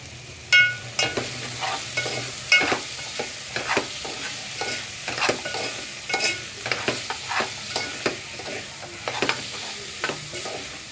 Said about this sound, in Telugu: ఇవి కొద్దిగా ఫ్రై అయ్యేంత వరకు వేయించుకోవాలి